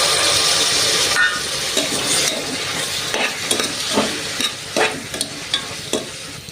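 Chopped tomatoes drop into onions frying in ghee, sending up a loud, steady sizzle and hiss, followed by repeated scraping stirs that come through as short, rhythmic bursts close by.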